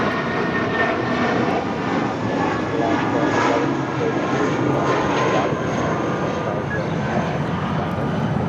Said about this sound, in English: This is JetBlue Airways 1732 taking off to Salt Lake City on an A320